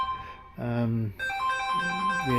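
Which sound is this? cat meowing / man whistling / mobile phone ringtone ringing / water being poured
mobile phone ringtone ringing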